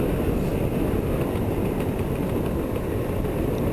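Steady, dense two-stroke race motorcycle engine running near and loud throughout, a continuous low rumble with no talk, likely idling or ticking over outdoors on a snowy day.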